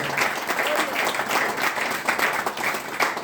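Church congregation applauding during a sermon, a sustained wash of many hands clapping at a steady level, with some voices mixed in underneath.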